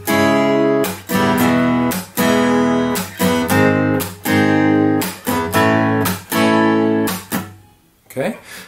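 Acoustic guitar strumming the basic pattern of a song through a chord progression, with a steady down-up rhythm of bright, close strums and chord changes, played alone and ending with a brief pause and a last strum.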